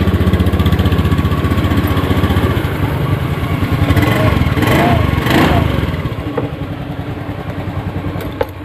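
Honda Scoopy scooter engine idling after a kick start, a close, loud and steady chugging putter that runs throughout with slight changes in pitch.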